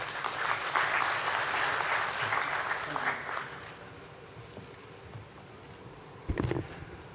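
An audience at a BSE stock exchange listing ceremony claps to welcome a speaker on stage, the applause loud at first, then fading into quiet room noise with a brief clatter near the end.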